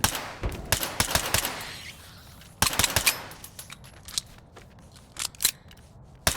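Rapid bursts of gunfire aimed at rats in S.T.A.L.K.E.R. 2: Heart of Chornobyl, sharp cracks in clusters with a dense volley near the start and another around the third second, then scattered single shots.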